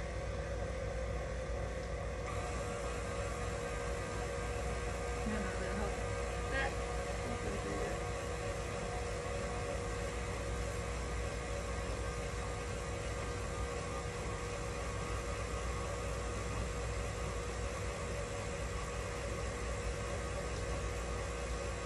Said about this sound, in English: Help our mixer out just a little bit, getting that butter mixed in.